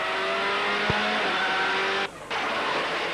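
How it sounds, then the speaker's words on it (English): Riding on board the works Ford Focus World Rally car at the Goodwood Festival of Speed, the engine drones loudly with steady tones, a sharp gearshift click, and a brief dip in power before it pulls again. "we put you in the passenger seat for a bumpy ride on board a World Rally car"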